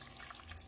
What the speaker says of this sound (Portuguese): Vou acrescentar o restante da água